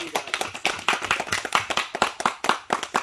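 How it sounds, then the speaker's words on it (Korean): Audience applause for an award winner at the closing ceremony of a Cattleya walkeriana orchid show, a small group clapping in distinct, fairly close rhythmic claps over three seconds. "예, 박수 한번 주시죠."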